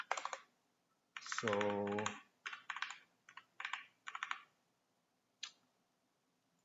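Commands are typed on a computer keyboard on Windows in short bursts of close, quiet key clicks separated by pauses, with one brief spoken word and a drawn-out vocal hum early on.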